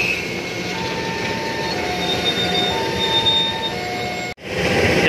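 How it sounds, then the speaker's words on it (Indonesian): Double-headed diesel locomotives hauling a long 15-car KLB Kricak special train at Bangil, a steady rolling rumble with thin metallic squeal tones, ending in a brief sharp dropout before the noise resumes. "Double traksi lokomotif maju."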